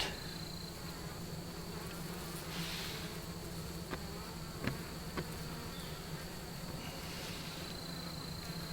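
Honeybees drone in a steady, close buzz as a horizontal hive is opened and inspected, with a few faint clicks and knocks from frames being handled.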